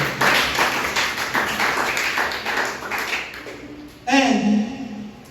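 A church congregation claps together at a worship service, a dense, sustained round of applause that fills the room for about four seconds, then stops as a voice resumes speaking close by.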